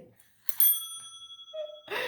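A small hand bell rings twice, a bright metallic ding with a shimmering tail followed by a second sharper strike near the end, close and clear against silence.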